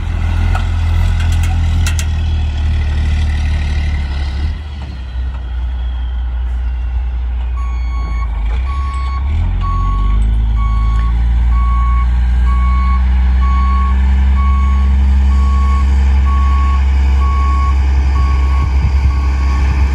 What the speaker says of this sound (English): I've got a buddy here showing up with his truck and trailer